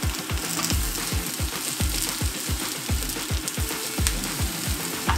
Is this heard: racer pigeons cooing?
no